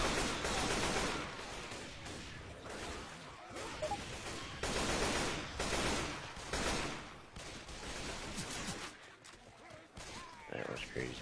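Rapid bursts of game gunfire, fusillades and machine-gun fire, roll on through the clip at close range amid chaotic in-game noise, with players talking over the shooting.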